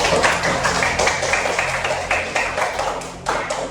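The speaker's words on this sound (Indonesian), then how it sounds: "Tepuk tangan dulu, semua tepuk tangan." A group of children in a classroom claps hands together, a rapid run of close, sharp claps that fades slightly then ends with a final burst.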